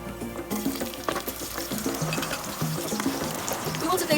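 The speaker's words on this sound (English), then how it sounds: "We will saute this ingredients" Coriander and ginger sizzle and crackle in heated cooking oil, a steady frying hiss with scattered pops close up, while a voice talks over it.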